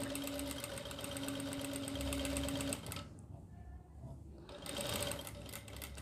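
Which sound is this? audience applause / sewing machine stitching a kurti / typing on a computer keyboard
sewing machine stitching a kurti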